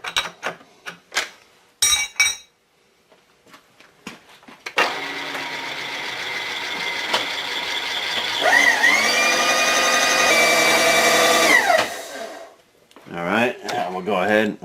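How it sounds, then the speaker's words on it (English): An end mill is tightened in a milling machine, a few sharp metallic clicks followed by a steady motor whir with a rising whine that runs for several seconds and then stops, with brief clanks before and after. "we're going to go ahead and raise our table up after we tighten this end mill"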